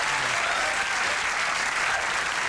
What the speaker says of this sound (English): Let's hear it for Lara Lee